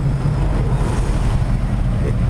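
A fast two-stroke engine at an outdoor two-stroke meet in Moergestel gives a loud, rough, continuous buzz with wind rumble over the microphone.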